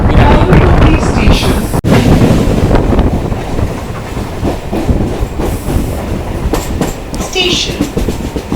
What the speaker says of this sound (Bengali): তো আমাদের ট্রেনটা ছেড়ে দিল